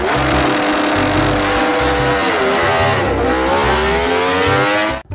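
A toy MotoGP motorcycle gives off a loud, continuous engine roar that revs up and down in pitch, close and steady for about five seconds before cutting off abruptly.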